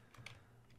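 Computer keyboard keys tapped during a Minecraft survival multiplayer session, a brief, faint cluster of a few close clicks.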